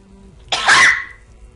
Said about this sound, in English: That was the person behind me sneezing.